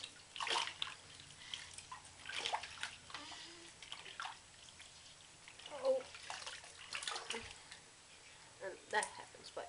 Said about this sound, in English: And then I just rinse out her head with the washcloth.